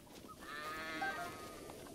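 A single sheep in The Legend of Zelda: Breath of the Wild gives a faint, wavering bleat lasting about a second over quiet game ambience.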